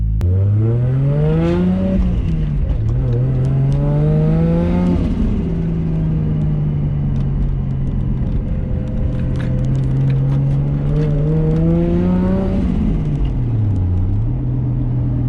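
A Nissan R33 with a built RB25DET engine drives along, the engine droning steadily up close with gear changes marked by rising and falling revs, with a fault in the hydraulic lifters.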